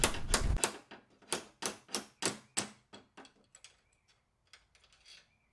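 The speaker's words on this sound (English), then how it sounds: "I just had to bolt the hinge back up on the storage rack and then tap it out" Sharp metallic taps from hammering a pin out of a rusted hatch hinge on a storage rack, a steady series of about a dozen close, evenly spaced strikes that gradually grow fainter.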